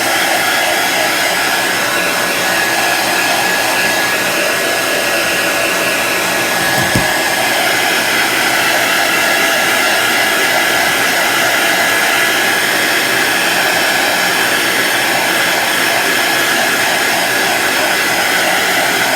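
A hair dryer blows loud and steady at close range, drying chalk paint on a wooden farmstand sign, a constant whooshing roar throughout with no speech.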